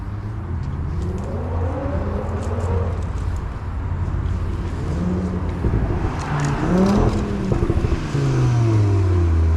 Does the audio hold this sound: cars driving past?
yes